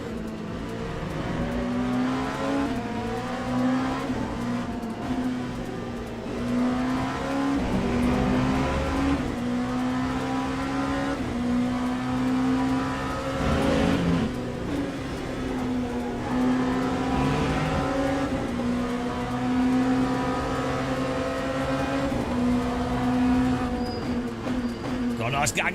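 Race car engines in the Le Mans Ultimate racing game, a continuous close engine drone rising and falling with gear changes while other cars run nearby, under steady talk throughout.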